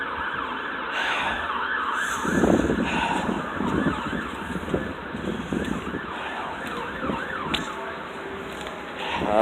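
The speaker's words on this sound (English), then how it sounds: "I'm hearing a lot of ambulances." An ambulance siren wails with a sweeping, rising and falling tone through the street, steady and fairly loud, with wind buffeting the microphone underneath.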